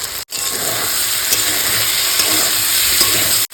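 Fried cauliflower drops into a pan of spice masala and sizzles loudly and continuously over low to medium heat, close up. The frying hiss fills almost the whole moment, with only a brief break near the start.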